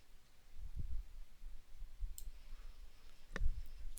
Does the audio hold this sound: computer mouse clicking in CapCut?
yes